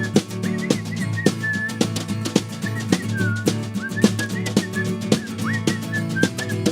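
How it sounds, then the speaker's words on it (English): Someone whistles a melody on stage at a live tribute show. The bright, wavering whistled notes sit over a steady full-band accompaniment with a rhythmic guitar pulse. "Okay, that's a good whistle"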